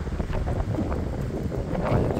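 Strong wind blowing by a lake with mountain scenery, a loud, continuous rushing buffet against the microphone with no voices.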